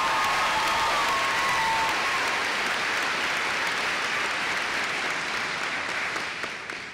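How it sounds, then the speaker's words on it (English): Audience at a 2014 spring graduate commencement ceremony applauding a graduate, a sustained even wash of clapping from a large crowd that slowly tapers toward the end. "please rise and let us applaud you"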